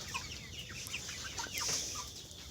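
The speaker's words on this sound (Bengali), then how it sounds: "তো এটা দেখতে পাচ্ছেন একটা মোরগ" A rooster on a poultry farm hit by a coryza outbreak gives faint, scattered clucks against a constant hiss of background noise.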